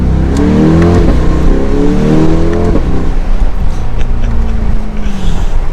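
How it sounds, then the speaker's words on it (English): Loud, close roar from the V8 exhaust of a 2022 Chevrolet Corvette Convertible C8 R Edition as it accelerates, sweeping up through several rising pitch climbs and shifts before easing into a steady drone. "Do another acceleration."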